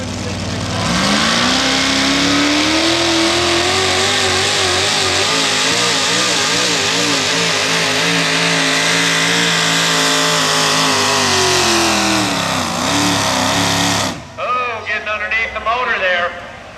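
A modified 4x4 pulling truck engine roars at full throttle for about fourteen seconds, a loud sustained rev with rising and wavering pitch, then cuts off abruptly, leaving quieter crowd and track noise.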